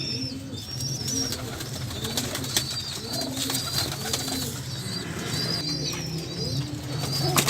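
A breeder pair of pigeons cooing, with repeated soft throaty coos close by and higher chirps over a steady low hum of background noise.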